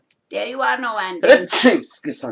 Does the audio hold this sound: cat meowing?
no